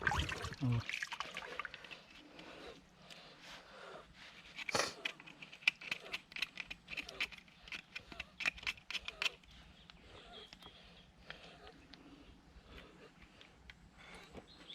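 A goat head being washed in water: close, irregular splashing, dripping and wet rubbing with scattered clicks, fairly quiet, with occasional low voices in the background.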